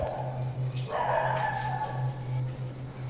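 A dog barks and whimpers nearby at night, a short burst of barking over a steady low electrical hum.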